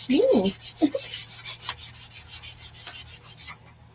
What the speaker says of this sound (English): I'm just sanding.